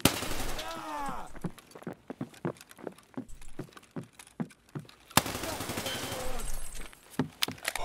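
Rapid bursts of gunfire from the video game Escape from Tarkov, a three-man squad fight in the Labs map, with sharp evenly spaced shots between stretches of game noise, loud and close.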